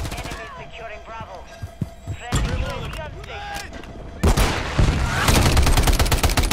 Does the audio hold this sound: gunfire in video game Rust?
yes